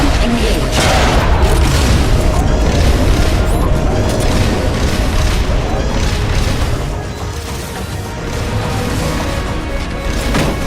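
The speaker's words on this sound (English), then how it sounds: "Firing rocket launcher." Rocket launcher fire and explosions in Metal Gear Solid: Peace Walker, a dense, continuous barrage of booming blasts and crashes that stays loud throughout, with voices mixed in.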